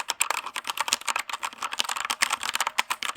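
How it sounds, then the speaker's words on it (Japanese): Fingers type rapidly on a Keychron K2 mechanical keyboard, producing a dense, continuous run of crisp clicky keystrokes close to the microphone. "こういう独特のね打鍵音が鳴るんですよ。"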